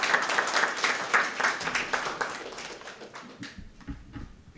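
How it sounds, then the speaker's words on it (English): An audience at the Asia Pacific Youth Environment Forum 2023 gives a speaker a round of applause. The dense clapping gradually thins and fades to a few scattered claps by the end. "Let's welcome him with a big round of applause."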